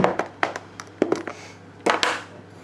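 A spoon stirs sugar into hot custard in a pan resting on a wooden board, giving a few close, irregular scraping taps and soft clinks against the pan, with no talking.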